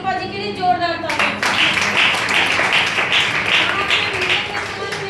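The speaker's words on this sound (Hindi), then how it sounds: "रूपा जी के लिए जोरदार तालियां" An audience at a DXN meeting breaks into loud applause for Rupa ji, clapping in a dense, steady wash up close just after a speaker's voice calls for it.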